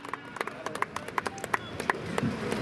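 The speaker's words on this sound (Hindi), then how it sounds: "जोरदार तालियां।" Applause from the audience at a district-level sports meet closing ceremony, a scattering of sharp, separate claps that grow denser and slightly louder toward the end, heard alone without voices.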